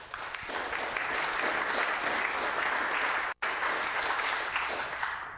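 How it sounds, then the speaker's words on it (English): Applause at a Baltimore City Council meeting, a room full of people clapping steadily for about five seconds at moderate distance, with a very brief dropout partway through and faint voices underneath. "So please give them a round of applause."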